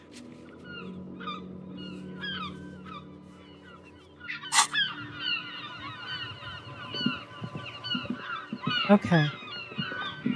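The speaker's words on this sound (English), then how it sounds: "Thank you, seagull sounds." Seagull calls sound in the detective game Disco Elysium, a run of repeated squawking cries over ambient background, growing busier and louder in the second half, with a brief spoken word near the start.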